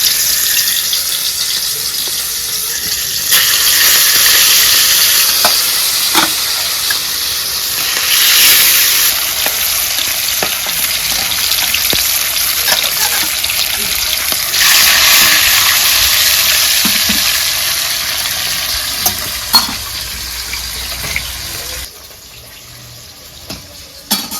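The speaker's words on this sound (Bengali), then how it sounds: "তেল গরম হয়ে গেছে, এখন মাছ দিয়ে দিচ্ছি।" Fish frying in hot oil for a Bengali potato fish curry gives a steady, loud hiss and sizzle that holds for about twenty seconds, swelling and easing a little, with occasional spatter pops before it quiets near the end.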